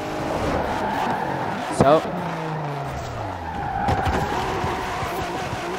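Ford GT in the racing game Forza, its tires skidding with a sharp squeal around the midpoint over a steady engine drone, while a voice talks throughout.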